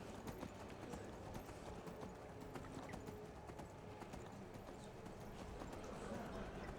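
Horse hooves clip-clopping in the Skyrim video game, a steady, busy stream of hoofbeats over rough rocky ground, heard close and continuous beneath a layer of game ambience.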